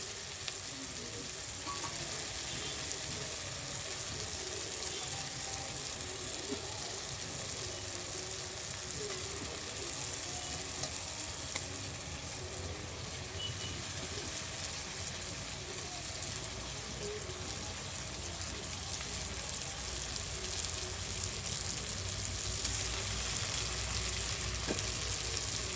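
Fish pieces frying in a pan for a butter and cream fish dish, a steady dense sizzle with faint stirring scrapes, continuous and even at moderate volume.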